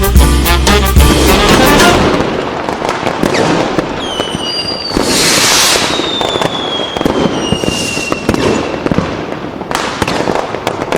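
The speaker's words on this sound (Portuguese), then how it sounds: "Solta os fogos aí, Beto." A fireworks sound effect on a Brazilian radio show fills the air with dense, loud crackling bursts. Whistling rockets rise and fade, and the rapid pops keep going with no talking.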